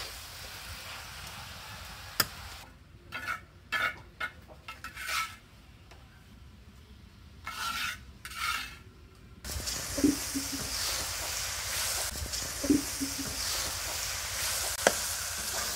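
Chal kumra (ash gourd) pumpkin slowly frying in oil in a pan for a fish curry, a steady close sizzle broken by scraping stirs and a few clinks of a utensil against the pan, with no talk.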